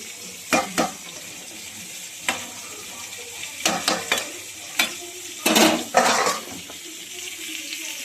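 Small crabs fry in a pan in a home kitchen, a steady sizzle broken by a few sharp clatters and scrapes of a spoon stirring against the metal, close by with no talking.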